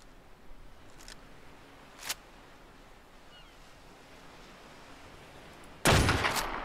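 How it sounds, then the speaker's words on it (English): A gunshot fired at a creature in the video game ARK Survival Ascended, one loud sharp blast near the end after a couple of faint clicks over quiet ambience. "Let's shoot him."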